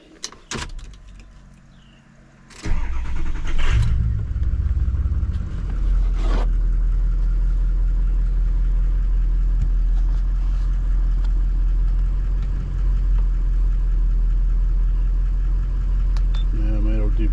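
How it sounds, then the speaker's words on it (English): A 2003 Ford F250 pickup cranks briefly and starts after a few clicks, then settles into a steady, loud, low idle that runs on without a break. "Let me fire up the truck."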